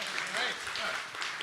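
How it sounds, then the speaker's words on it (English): Summit audience at a science conference in Singapore gives a brief round of applause, close and steady, with voices mixed in under the clapping. "A round of applause."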